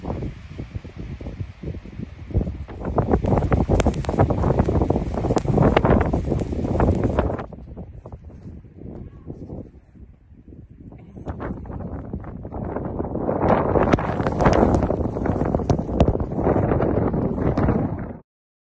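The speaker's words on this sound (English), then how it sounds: "It's crazy windy." Strong wind roars across open northern Canadian tundra, buffeting the microphone in loud gusts, easing briefly in the middle before surging again, with no voices.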